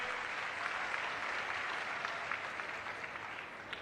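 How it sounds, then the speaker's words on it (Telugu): An audience at a political speech applauds, a dense continuous wash of clapping from a crowd that holds steady for several seconds at moderate distance. "బాగు చేశామంటే గట్టిగా చప్పట్లు కూడా చెప్పండి"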